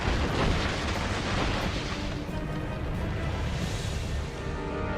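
Mortar fire from a ship in Assassin's Creed Rogue Remastered during a naval battle produces continuous heavy booming explosions and roaring blasts that blend into a dense, loud wash without pauses.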